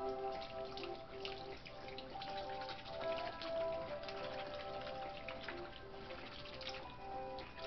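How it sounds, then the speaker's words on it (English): Homemade chicken broth is poured into a pan of turkey drumstick gravy, a faint, steady trickle and patter of liquid with no voices. "some chicken broth that I made on the side."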